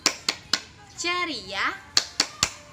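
Sharp hand claps of the Indonesian clap game, three quick claps, a break filled by a voice, then four more in a pattern, close and loud.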